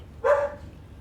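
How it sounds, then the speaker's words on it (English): A dog in the cabin of an aircraft in Microsoft Flight Simulator 2020 gives one short, clear bark, moderately loud against a faint engine hum, with no voices. "There's a dog in the airplane"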